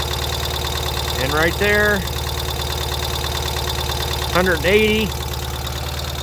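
A 2023 Ural sidecar motorcycle's engine idles steadily after a cold start, a constant loud rumble with someone talking over it twice.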